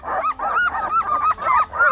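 A pit bull puppy yaps in a rapid series of high, thin barks and squeaky yelps, close by and fairly loud, about seven or eight short calls in two seconds with no talk.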